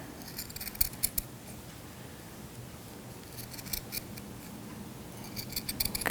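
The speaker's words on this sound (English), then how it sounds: "So you can use your felt to cut petals to put underneath your buttons to get the flower shape." Small scissors snipping through felt to cut flower petals for embroidery, a series of crisp close clicks and snips in irregular bursts over a quiet background.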